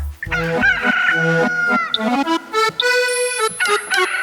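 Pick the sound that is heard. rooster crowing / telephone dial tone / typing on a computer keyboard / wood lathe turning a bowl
rooster crowing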